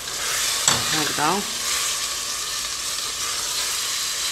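Meat frying in a pan for Algerian chakhchoukha: steady bright sizzle and crackle throughout, with a short spoken word early on.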